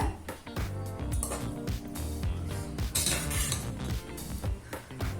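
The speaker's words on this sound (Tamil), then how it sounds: "அரிசி உடையாத மாதிரி மெதுவா கிளறுங்க" A ladle stirs ghee rice in a metal pot, producing close, continuous scraping and clinking of metal against metal in an irregular rhythm, with no talking.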